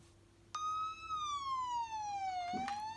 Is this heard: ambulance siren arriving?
yes